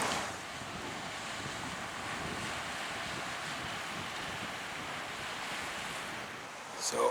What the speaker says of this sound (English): magnificent ocean